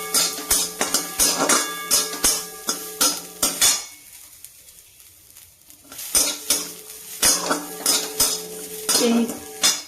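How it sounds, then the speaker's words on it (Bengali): Garlic is stirred dry in a metal kadai with a utensil, producing rapid clinking and scraping strokes up close, a brief pause midway, then more brisk rhythmic scraping. "একটুখানি এটাকে এমনি নাড়বো, এমনি শুকনো"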